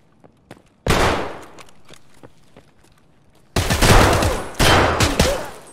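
Loud bursts of automatic gunfire in Escape From Tarkov: one long burst, a pause with faint clicks, then two more heavy rapid volleys in close succession.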